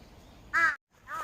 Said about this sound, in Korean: 야, 까마귀 너희들 저리 가!